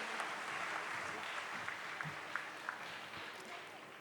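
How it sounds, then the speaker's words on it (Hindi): An audience applauds actress Sreeleela at a large public event. The clapping is a soft, steady patter heard from a distance, with a few sharper claps on top and a faint voice mixed in. "जोरदार तालियां हो जानी चाहिए श्री लीला जी के लिए।"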